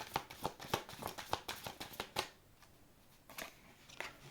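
Tarot cards shuffled by hand in quick crisp riffling flicks, close and soft, then a quieter pause and a couple of cards laid down.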